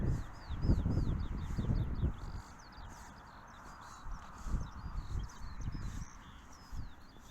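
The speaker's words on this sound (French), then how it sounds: "C'est bien d'entendre les oiseaux, ça change?" Birds sing outdoors on a calm day along a path, with repeated chirps and short whistled phrases over heavy rustling and footsteps close by.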